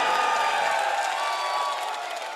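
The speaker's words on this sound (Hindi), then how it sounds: "ताली बजा दो एक बार।" Audience clapping at a Hindi comedy poetry show, a steady crowd wash that slowly fades, with a faint voice over it.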